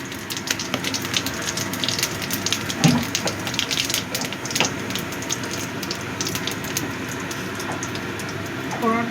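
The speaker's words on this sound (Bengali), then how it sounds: "তেলটা গরম হয়ে গেছে, এবার আমি দিয়ে দিচ্ছি জিরে ফোড়ন।" Cumin seeds frying in hot oil give off a steady close sizzle and hiss, with small crackles and pops over a continuous bed of frying noise.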